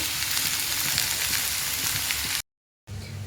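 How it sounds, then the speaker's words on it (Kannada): Chopped garlic, ginger and onion sizzle steadily in hot oil, a loud close hiss with faint crackles that cuts out briefly and then resumes. "ಬೆಳ್ಳುಳ್ಳಿ ಶುಂಠಿ ಈರುಳ್ಳಿ ಇಷ್ಟು ಎಣ್ಣೆ ಹಾಕಿ ಉರಿತಾ ಇದ್ದೀನಿ ನೋಡಿ"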